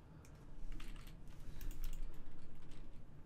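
Quick, soft clicking of a computer keyboard being typed on, a steady patter of close keystrokes at low volume with no talking.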